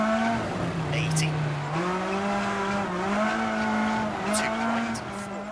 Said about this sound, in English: I really do dig the engine sounds in this game